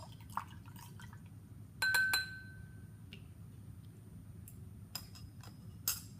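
A scoopula gets rinsed with water in a quiet lab, with faint drips, a couple of light glassy clinks and a thin trickle over a low steady background hum.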